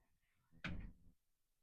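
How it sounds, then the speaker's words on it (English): An indoor door in a cozy home pushed shut, a single short thud with a brief clunk, close and fairly clear against a quiet room. "Let me close the door."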